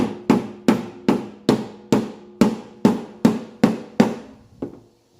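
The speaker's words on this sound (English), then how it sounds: "we're just going to take the dead blow and" Eleven evenly spaced thuds from a dead blow hammer striking a thin metal oil pickup part to flatten it, steady blows about two per second, close and moderately loud with no talk.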